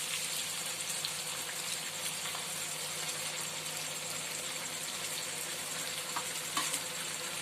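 Marinated chicken pieces fry in a pan with leftover spice paste, giving an even, continuous sizzle at moderate volume with faint occasional stirring clicks and no talking.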